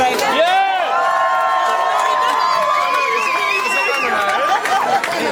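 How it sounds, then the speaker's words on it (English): A loud crowd cheers and shouts continuously, with whoops and a sustained roar of voices filling the space. "make some noise for Mr. Hudson"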